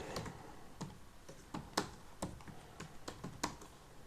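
Computer keyboard typing while entering data in Tally accounting software: a quick irregular run of crisp key clicks, with a few harder strikes, close and fairly quiet, without any voice.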